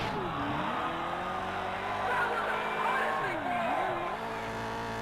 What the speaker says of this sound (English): So I should use the handbrake a lot more.